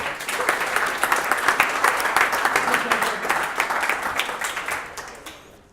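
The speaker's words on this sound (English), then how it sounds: "Maybe a round of applause for all of them." An audience at an enterprise sales talk event applauds, dense clapping from a roomful of people that stays loud and then tapers off toward the end.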